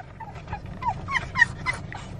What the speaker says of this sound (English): Look at that puppy.